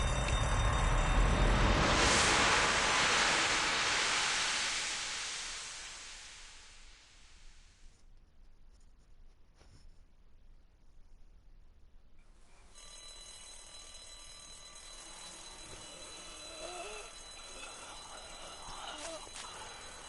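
A loud electronic alarm blares after a door is opened with keys in The Walking Dead video game, strong for several seconds then cutting off abruptly, followed by quieter ambient sounds with brief voices.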